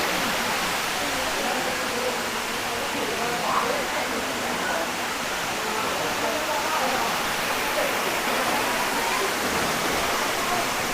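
Lubcon Falls in Cortes, Surigao del Sur roars as a steady, dense wash of falling water, loud and constant throughout with no pauses.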